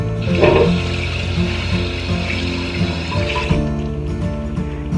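Tap water running loudly and steadily while vegetables are washed at a sink for making kimchi, then cutting off near the end.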